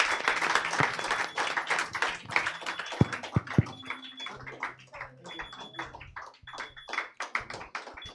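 Audience applause at an awards ceremony, a moderate patter of clapping that is fairly quiet and somewhat distant, with scattered louder claps and a faint voice mixed in.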